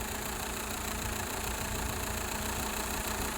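In a Fiat Tempra 1.6 MPI with the engine at 101 degrees, the radiator cooling fan whirs steadily beside the idling engine, a constant close hum with no talk.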